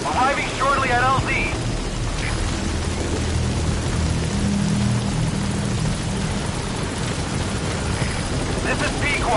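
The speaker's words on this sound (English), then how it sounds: "Support helicopter has arrived." Support helicopter arriving in the game Metal Gear Solid V: a continuous rotor rumble and wash beneath rain-like noise, with brief in-game voice radio chatter over it.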